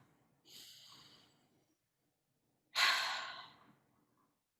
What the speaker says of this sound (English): So I invite you all to take a breath with us.